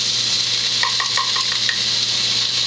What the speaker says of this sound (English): Stir it around once again until the onions are nice and tender.